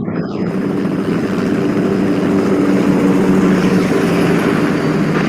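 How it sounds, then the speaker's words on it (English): Helicopter in flight from the film The Thing, a loud continuous rotor and engine roar with dense broadband texture, steady throughout with no speech. "RJ McCready was a helicopter pilot"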